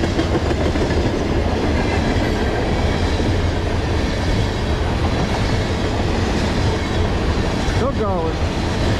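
Freight train cars roll past steadily on the Lehigh Line, producing continuous close clickety-clack and wheel rumble with a brief wheel squeal near the end.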